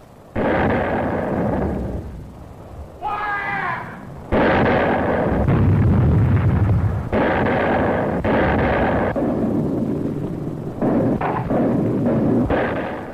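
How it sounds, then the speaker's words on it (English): WWII howitzer artillery firing in the Pacific battle for Peleliu: a series of heavy, booming reports with rumbling tails, loud and fairly close, sounding one after another with short pauses between them. "The crescendo of the howitzers prefaced each new attack."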